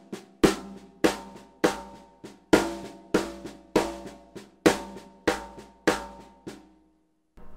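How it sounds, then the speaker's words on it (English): A drum fill built from seven-stroke rolls with accents on three right-hand and then three left-hand strokes, about a dozen sharp evenly spaced accented hits with quick decays and quieter rolls between, played alone and close. "I accent the 3 right hands and then the 3 left hands"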